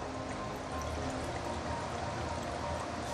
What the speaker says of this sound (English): Yeah, I'm going to add in more water.